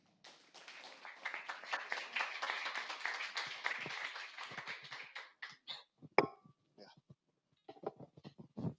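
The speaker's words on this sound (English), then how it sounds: "Some applause for André" An audience at a fintech pitch event claps for the next speaker, starting as a faint, dense patter and thinning into scattered individual claps before trailing off.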